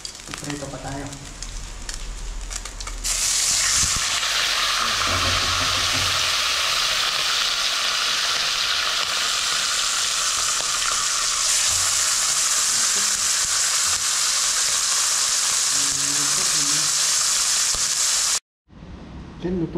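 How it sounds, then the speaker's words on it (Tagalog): Fish caught from the sea frying in a pan, a loud continuous sizzle that starts abruptly after a few seconds of quieter sound, with some speech around it, and stops sharply near the end. "Prito pa tayo."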